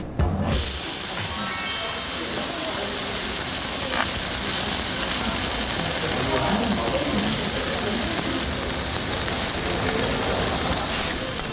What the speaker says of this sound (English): hearing the sizzling sound